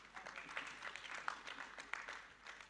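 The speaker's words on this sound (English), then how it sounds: "Dr. Levy, Chairperson IPPU Council, clap for him and the council members." Applause from the audience at an annual procurement summit, a steady spread of clapping with a few sharper claps standing out, moderately distant and fairly quiet, with no speech over it.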